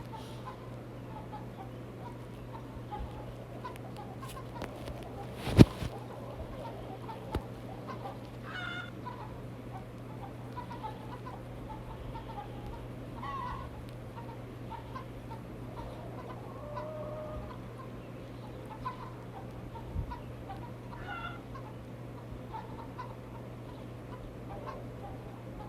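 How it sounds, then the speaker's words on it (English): A crowd of chickens on a farm clucks continuously in a dense, far-off murmur over a steady hum, with one sharp knock partway through. "Those are tons of chickens."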